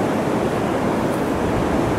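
Sea waves wash onto a beach in a steady, dense roar of surf that holds even and loud for the whole stretch, with no voices over it.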